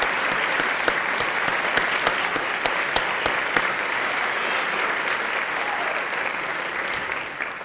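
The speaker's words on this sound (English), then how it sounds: "join me one more time in a round of applause for the volunteers that are behind me." A high school senior recognition night crowd gives the volunteers a round of applause, a full, steady wash of many hands clapping with a few sharper individual claps standing out, sustained throughout.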